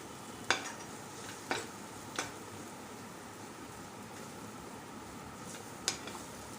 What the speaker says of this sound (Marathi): तुम्ही कंटिन्युअसली परतवत राहायची आहे ही डाळ